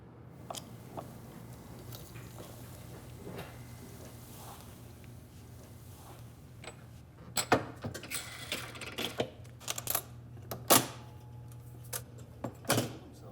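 A Ludlow Model M typecasting machine casts a single line of type, humming steadily at first, then breaking into a run of sharp mechanical clunks and clacks, close and fairly loud, with no voices.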